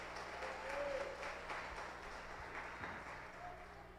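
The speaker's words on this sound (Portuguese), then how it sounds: "Pode aplaudir que é para Jesus." A church congregation applauds in a sustained, fairly soft wash of clapping, with a faint hum and a few tonal notes beneath it.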